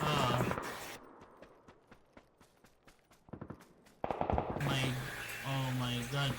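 Gunfire in PUBG, a rapid string of sharp cracks and shots in close succession between bursts of loud in-game noise and voices, with the shooting mostly clear in the middle.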